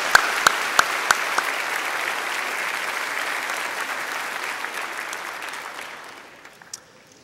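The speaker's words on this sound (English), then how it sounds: "Let's give him one more round of applause." Applause from the audience at a winter college graduation ceremony, a broad sustained wash of clapping with a few sharp near claps at the start, fading out toward the end.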